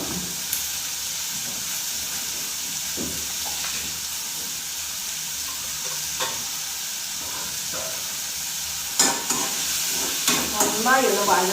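Chopped onions, about one and a half, sauté with a pinch of salt in a pan on a village kitchen stove, a steady loud sizzle with occasional scraping stirs that grow busier toward the end.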